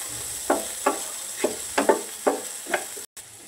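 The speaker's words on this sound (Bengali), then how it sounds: "এবার আমি ভালোভাবে এগুলো মিশিয়ে নেব।" Boiled potatoes with onions, turmeric and salt being stirred in a pan for mini singara filling: six or seven evenly spaced scraping strokes close by over a soft sizzle, with no voices.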